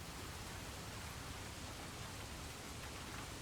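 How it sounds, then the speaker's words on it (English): Dense, even rain hiss fills the whole stretch, continuous and unbroken with no voices. "The rain sounds are a good lullaby."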